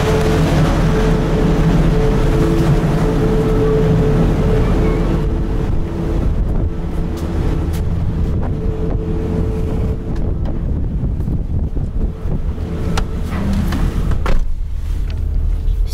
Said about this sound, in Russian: это паром, и плюс сегодня еще такой ветер сильный